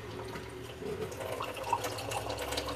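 A kitchen tap runs water for a drink in a warm room, a steady soft splashing stream with faint clinks and a small drip-like peak partway through, close and alone without talk.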